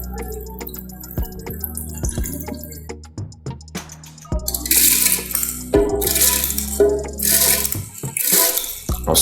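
Water draining from soaked rice, with scattered drips and clinks giving way to a louder splashing pour that comes and goes in bursts, close by, with no talking.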